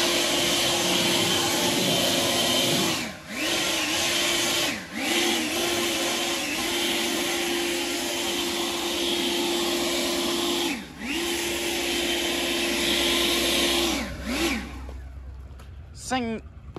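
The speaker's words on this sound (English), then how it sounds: "it's like clockwork with this leaf blower" An Atlas electric leaf blower runs loud and close outdoors with a steady high whine and broad rushing air, dipping briefly several times as it is moved, then cutting off near the end.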